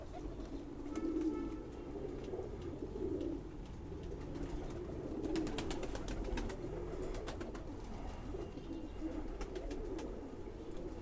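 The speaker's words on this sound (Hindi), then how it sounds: "लो जी नायाब खूबसूरत कबूतर" Soft, low coos of khaki pigeons repeat in the background at a modest level in Jammu, India, with faint chirps and rustling, no talking.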